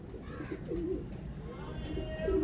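Soft, low coos from teddy pigeons repeat a few times close by, throaty and rolling, over faint background noise.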